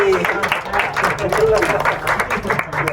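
An audience claps in applause for a few seconds, a steady close patter of hands with some crowd murmur mixed in.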